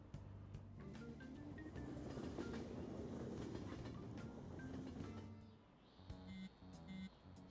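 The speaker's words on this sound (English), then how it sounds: "Oh, the train is here." A train pulls into a station in the Persona 5 Royal video game, a quiet low rumble with rail clatter that fades near the end, followed by faint chime-like tones.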